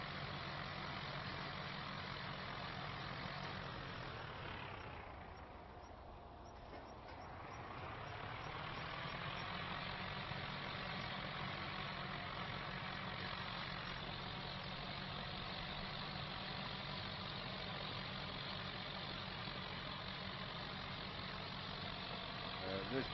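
A tractor engine idles in Farming Simulator 25, a low steady rumble that dips briefly and then carries on evenly, with talk over it.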